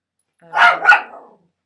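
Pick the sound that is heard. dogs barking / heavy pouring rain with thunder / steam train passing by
dogs barking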